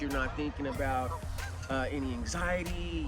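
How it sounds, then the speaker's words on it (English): Canada geese honk repeatedly outdoors in the background, their nasal calls rising through and around steady close speech from a person talking throughout. "you might hear the Canadian geese in the background"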